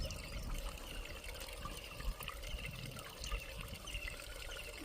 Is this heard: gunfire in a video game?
no